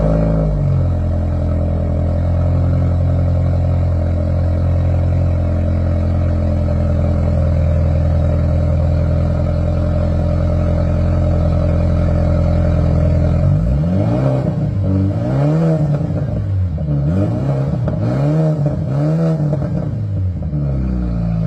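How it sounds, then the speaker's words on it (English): A BMW 428i with resonator and muffler delete exhaust idles with a steady, deep drone for about thirteen seconds, then is revved repeatedly in quick rising and falling bursts, loud and close with no talking. "the exhaust setup I have is a resonator delete with a muffler delete. And it sounds pretty good."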